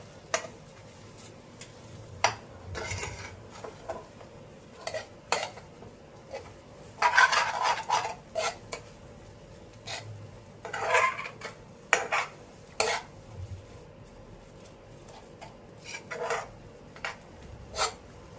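A spoon scraping and knocking in a pan while a thick sweet mixture is stirred and roasted over a low gas flame, with irregular clinks and rubbing strokes at close range, some louder bursts in between.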